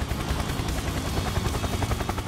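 Police helicopter in the Autobahn Police Simulator 3 video game, a loud continuous rotor thudding with fast chopping pulses throughout, no voices.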